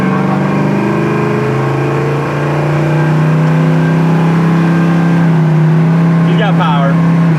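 A 1972 Chevy Nova's engine pulls hard under acceleration, a loud, rising, sustained roar with climbing harmonics heard from inside the car, a voice briefly present near the end.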